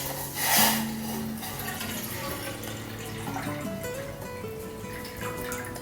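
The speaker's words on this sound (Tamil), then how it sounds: "நம்ம தண்ணி ஊற்றிக்கலாம்." Water is poured from above into a cooking pot set on a gas stove for homemade rose water, a splashing burst at the start settling into a softer trickle, with a faint tonal hum behind.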